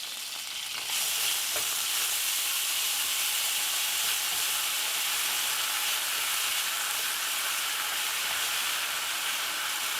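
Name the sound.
ginger paste sizzling in a pan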